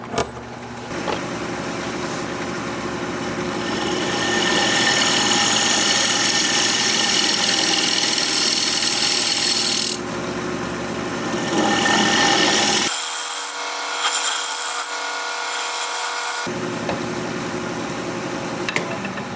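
A wood lathe spins a thin wooden workpiece while a tool cuts a recess into it, giving a steady scraping, rushing tone that pauses briefly and then resumes, loud and close throughout.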